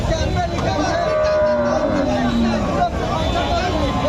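A Friesian dairy cow at a busy cattle market lows in a drawn-out moo partway through, set against a crowd babble and close voices speaking over it.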